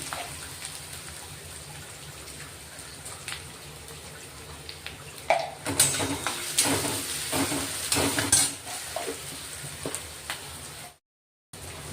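Onions salted in a pan sizzle steadily while a spoon stirs them, the frying growing louder and busier midway with scraping strokes before a brief silent gap.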